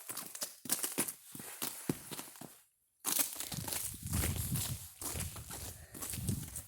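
Frozen ground with ice crunching underfoot, heard as close, irregular crunchy steps with a brief pause partway through before the loud crunching resumes.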